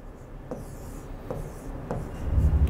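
A compass draws an arc on paper with a soft, steady scratching rub, faint and close, punctuated by a few light taps.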